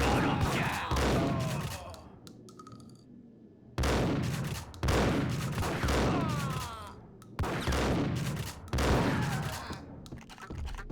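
Repeated gunfire in the Max Payne video game, loud shots in several clustered bursts separated by short gaps, with sharp echoing reports.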